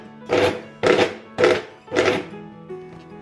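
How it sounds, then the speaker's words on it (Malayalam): A kitchen mixer grinder pulses chapati dough with a little oil added, giving four short, loud whirring bursts at an even rhythm, each cut off sharply, then a faint tail. "ഒന്നും കൂടി ഇതൊന്ന് പൾസ് ചെയ്യും"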